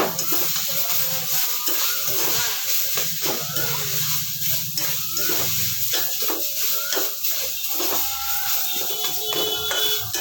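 Cooking mixture with coriander powder sautéed in a pan for egg paratha, a close sizzle with scraping and stirring strokes throughout, no talk.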